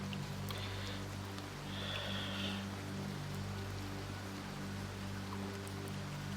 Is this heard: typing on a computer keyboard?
no